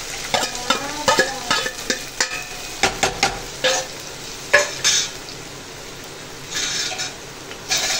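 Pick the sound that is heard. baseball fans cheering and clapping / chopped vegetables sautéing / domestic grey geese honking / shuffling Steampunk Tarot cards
chopped vegetables sautéing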